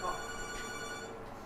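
A telephone rings with an incoming call during a live televised bingo broadcast, its steady electronic tone running through the whole moment under faint background voices.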